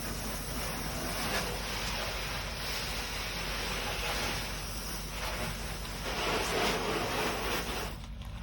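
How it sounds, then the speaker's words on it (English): Water sprays from a hose over a portable toilet unit outdoors to rinse away loose material. The broad, steady hiss runs throughout with some wind noise and briefly drops away at the end. "spray down the unit of all loose material that might be able to come out with just the water, spraying it"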